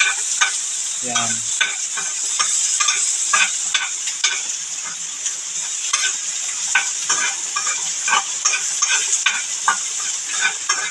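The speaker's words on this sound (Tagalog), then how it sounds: "Halo-haloyin ko na yung bawang." Garlic and onion stirred in a hot pan, a steady scrape and sizzle with repeated clicks of a utensil against the pan, close and continuous, with a brief voice near the start.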